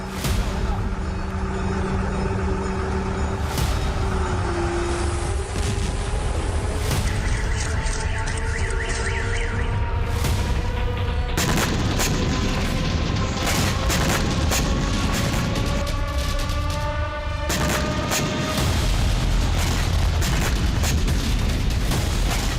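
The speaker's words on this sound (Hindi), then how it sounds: "पोक्रोवस्क की अस्थायी रूसी छावनी पर भीषण बमबारी की गई।" Heavy bombardment of a temporary Russian camp at Pokrovsk, with a continuous, loud barrage of booms, blasts and rattling gunfire-like bursts filling the whole stretch without pause.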